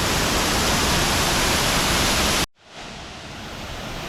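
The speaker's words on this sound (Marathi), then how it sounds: "हा एक धबधबा." Broad, steady roar of a waterfall at Siddhagad fort in the Konkan, loud and continuous, then a sudden cut to a slightly softer, duller rush of falling water.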